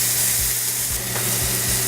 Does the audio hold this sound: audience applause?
no